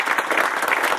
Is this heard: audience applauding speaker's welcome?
yes